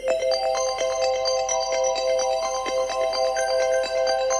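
A phone ringtone sounds for an incoming call, a steady electronic melody of repeating tonal notes that stays clear and constant throughout with no talk over it.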